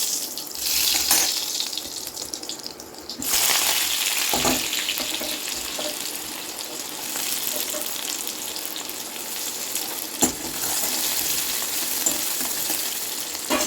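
Steady sizzling and frying of ground onions sautéing in a pan, continuous and close, with occasional stirring clatters and a watery hiss.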